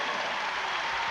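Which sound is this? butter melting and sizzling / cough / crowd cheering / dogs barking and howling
crowd cheering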